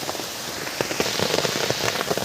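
Heavy rain in a rural jungle area, dense irregular drops pattering and crackling on a surface nearby, continuous and moderately loud.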